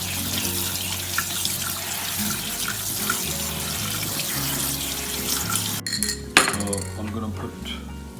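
Cold running water from a kitchen tap rinses freshly boiled pasta in a sink, a steady broad rush with occasional clinks of cookware, alongside background music and a brief splashy burst near the end.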